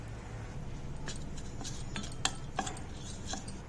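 Spoon scraping and clinking in a bowl while dough is mixed with a pinch of salt and a spoon of corn flour, a quiet steady rustle with a couple of sharper clinks.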